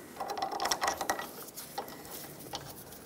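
Ratchet tightening wheel hub bolts on a 1996-2002 Toyota 4Runner during a front wheel bearing and hub job, giving a quick run of fine metallic clicks in the first second, then quieter scattered mechanical ticks.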